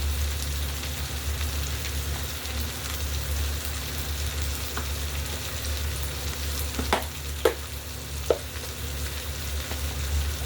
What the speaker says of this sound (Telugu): ఇప్పుడు టమాటా వేగేటప్పుడే మనం కారం